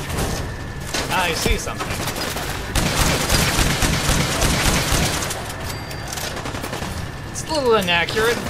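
Rapid bursts of weapon gunfire in Fallout 4, loud and close, firing in repeated volleys with brief pauses throughout.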